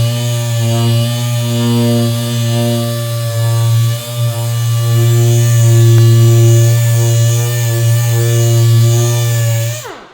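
A power sander works over wooden vanity cabinets, a loud, continuous buzzing drone with steady harmonics and a brief dip midway, stopping at the end.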